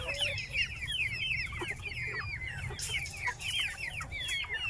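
Backyard chickens cluck in a steady run of short, close calls, with several birds overlapping, while someone brings water and feed to them.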